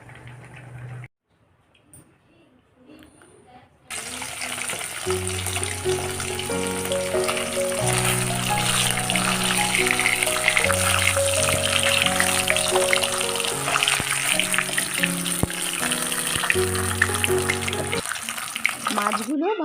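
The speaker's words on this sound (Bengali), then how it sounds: "মাছগুলো ভালো করে কড়া করে ভেজে নিলাম।" Rohu fish pieces coated in salt and turmeric frying in hot oil in a wok on a gas stove, a loud steady sizzle and crackle that starts abruptly after a quiet moment and continues to the end.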